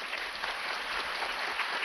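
Steady applause from a lecture-hall audience at a Nagoya talk event, thanking a speaker; many hands clap in a dense, even wash that stays at a constant level throughout.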